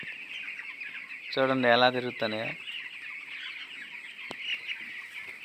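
Chicks around a poultry shed at dawn, a busy chorus of peeping with a short burst of louder clucking in the middle, with someone talking over it.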